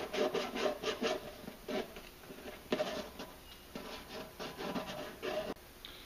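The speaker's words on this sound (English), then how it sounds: "we're just going to go ahead and sand the inside of this a little bit." Sanding inside an intake crankcase breather plug for an XP1000: quiet, close rubbing strokes in an uneven rhythm of short gritty bursts with brief pauses, with no speech.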